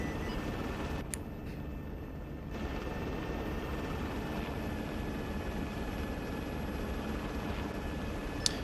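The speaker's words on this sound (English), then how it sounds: "seems like the Mi-8 is traveling southeast to the enemy airfield" An Mi-8 helicopter flies in the Arma 3 video game, heard as a faint, steady distant rotor drone with a couple of brief clicks and no talking.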